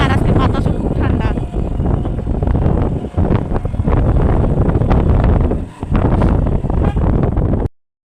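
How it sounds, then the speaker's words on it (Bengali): Cold wind blowing hard across the microphone outdoors among trees, a loud continuous roar with brief dips, close and steady throughout. "আজকে বাতাসও খুব ঠান্ডা"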